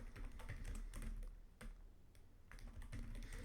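Typing on a computer keyboard while writing Python code: bursts of close, crisp key clicks in quick runs, broken by short pauses, with no talk over them.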